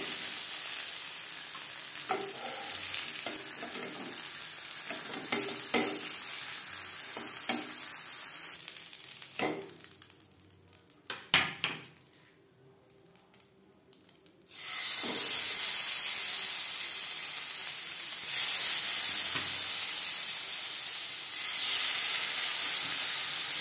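Pieces of rui fish fry in hot oil with a steady, close sizzle that briefly quiets in the middle, then returns loud and continuous.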